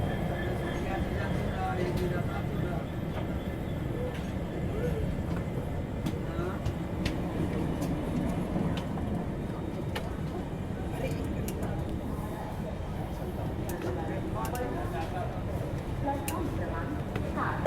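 Steady rumble and clatter of the Mandovi Express passenger train rolling into Panvel railway station, continuous and fairly loud, with faint voices and clanks mixed in.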